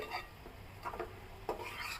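A salted banana flower mixture for chapor ghonto, already releasing water, is stirred in a pan; quiet scraping and clinking strokes come in a few separate bursts, with no voices.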